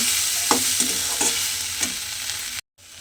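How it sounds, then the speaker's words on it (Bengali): A tomato and egg mixture cooks on low heat in a pan, a close, loud sizzle broken by four quick spatula scrapes and stirs before a brief silence. "শুধু এইভাবে একটু মিশিয়ে রান্না করে নিতে হবে।"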